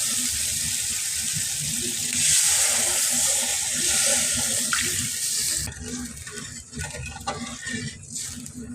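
Water pours into a pan of cooking prawn curry, a loud rushing splash and hiss for several seconds that then gives way to softer bubbling and sizzling.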